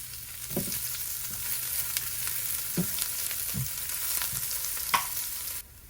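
Garlic fries in a pan for pinakbet, a continuous close sizzle with a few distinct spatula scrapes and clinks spread across it, ending abruptly; no one speaks.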